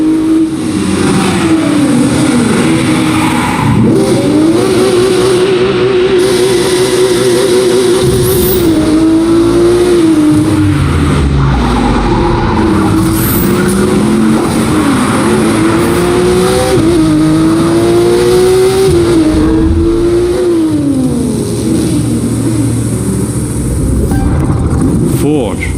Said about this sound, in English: street racers prove their skills, skidding on rooftops, burning asphalt